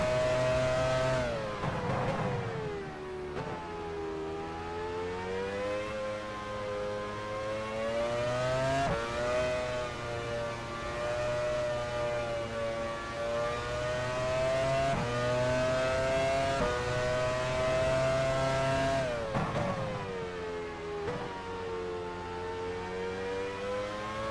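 Race car engines in F1 Challenge 99-02 at the 1999 Spanish Grand Prix: a loud, high-pitched engine whine climbs and falls through the gears. Other cars flash past in short bursts around it.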